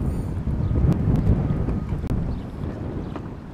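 Steady wind buffets the microphone while fishing from a platform, a constant low rumble with a few brief clicks and no talk.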